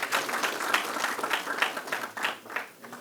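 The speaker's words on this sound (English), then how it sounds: "Shall we please appreciate it the more by giving him another round of applause." At a new-member induction ceremony, an audience gives a speaker another round of applause: moderately loud, continuous clapping with small surges, keeping a steady level to the end.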